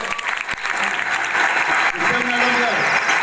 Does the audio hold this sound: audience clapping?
yes